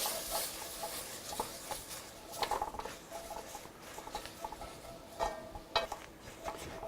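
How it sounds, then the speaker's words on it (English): Onions and garlic stirred into a roux in a pot, giving light, irregular scraping and sizzling patter with soft clicks of a spoon against the pot. "I'm going to add onions and garlic and start those working around"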